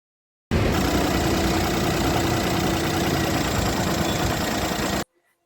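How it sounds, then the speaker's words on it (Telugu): A Maruti Alto K10 automatic car engine idles with a steady, even rumble for several seconds, close by, then cuts off abruptly into silence. "ఇప్పుడు మనం ఇంజన్ ఆన్ చేసి చూపిస్తాను ఎలా ఉందో చూడండి"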